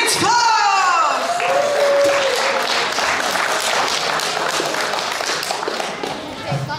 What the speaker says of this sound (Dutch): voor alle grote applaus voor de one and only Chits Vlog